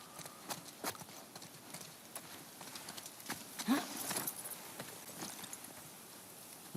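Horse hooves clip-clopping in The Last of Us Part II, a string of close, uneven hoof strikes on hard ground at a walking pace, moderately faint over quiet game ambience.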